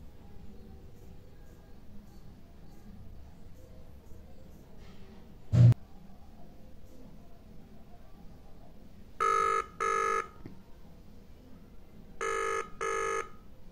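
An outgoing call from a Vibes Cacia smartwatch by Lifelong rings as two paired bursts of electronic ringback tone, each double pulse evenly spaced, clear and moderately loud after a single sharp click, over quiet room background.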